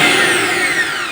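A Minister MI-MG600 mixer grinder motor runs at high speed with a loud, steady, close whine that holds level throughout the short burst.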